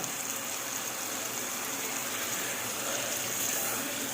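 Water pours steadily into tomato sauce in a cooking pot, making a continuous broadband gush and hiss that holds at an even level throughout with no talking.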